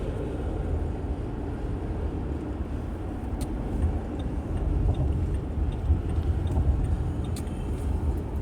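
Steady traffic rumble of trucks rolling along highway US 422, a continuous broadband drone with no distinct pass-bys standing out.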